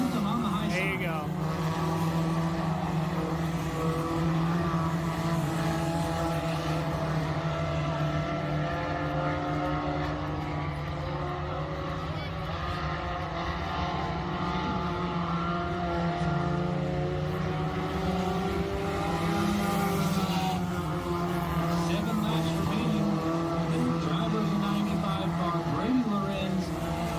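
Race car engines from a circle track racing video game drone continuously at high pitch, revving and shifting as the cars run through the turns at Big Sky Speedway, with a commentator talking over the steady roar.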